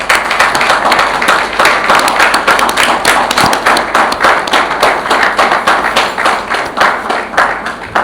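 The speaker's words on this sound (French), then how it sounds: "Je vous prie de les applaudir très fort." Audience applauding at a journalists' union anniversary ceremony, a steady, dense wash of clapping from many hands sustained throughout.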